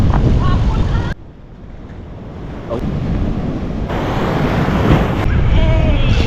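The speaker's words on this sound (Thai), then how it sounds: "โอ้อันนี้คลื่นสวยจัง" Sea waves washing onto the shore at Sam Roi Yot on the Thai coast, a steady broadband surf wash with gusts of wind buffeting the microphone and brief dips in level.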